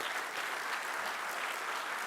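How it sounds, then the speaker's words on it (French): Dense, even applause fills a formal forum hall as the audience claps together, a soft continuous wash of many hands at a steady level with no voices standing out. "Je vous demanderai de l'applaudir."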